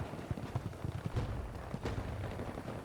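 Gunfire in the shooter Battlefield 2042, a run of sharp, loud shots with rapid bursts over a rumbling battlefield din, close and dense throughout.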